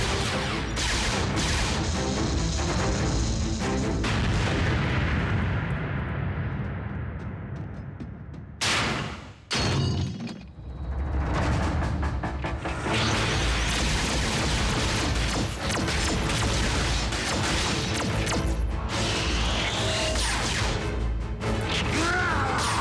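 Explosions blow up enemy robots in a loud action battle, with heavy crashing booms and a dense rumbling roar, a short drop to near quiet partway, then more sustained blasts and debris.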